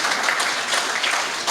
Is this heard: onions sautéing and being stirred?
no